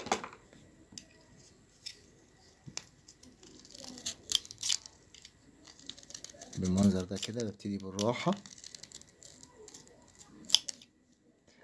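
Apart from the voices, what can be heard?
knife shaving a reed calligraphy pen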